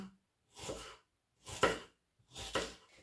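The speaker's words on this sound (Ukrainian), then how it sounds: "ріжемо нашу цибульку" A knife cuts an onion into half rings on a board, three separate slicing strokes with short pauses between them, close and fairly quiet.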